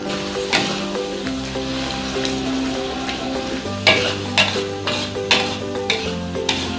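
Chili sambal sizzles and fries in a pan while a utensil stirs it, with steady frying hiss and repeated scraping strokes against the pan, close and loud, no voices.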